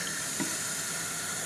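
Water poured from a tablespoon into powdered egg replacer, a faint, soft trickle over a steady background hiss with one small splash near the start.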